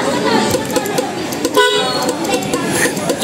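A stock dual car horn honks in a brief tooting burst amid busy street noise and nearby talking.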